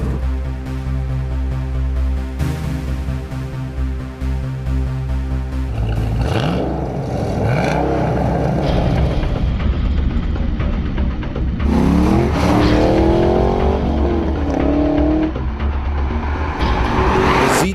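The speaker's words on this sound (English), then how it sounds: "Z28's big V8, rear-wheel drive traction, and relatively slow-shifting 6-speed manual were no match whatsoever for the GTR's twin-turbo V6" A 2014 Chevrolet Camaro Z28 with a big V8 and six-speed manual races a 2014 Nissan GT-R Track Edition with a twin-turbo V6 down a drag strip. Loud engines drone, then rev hard through climbing gear changes with tire noise.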